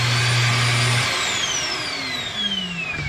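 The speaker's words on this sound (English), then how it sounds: "It will come with hose and attachments to be able to use this vac system." A road vacuum system built into a 2023 R-Pod 190 travel trailer runs loud and close, a steady whine and hum that shifts pitch as it spins down.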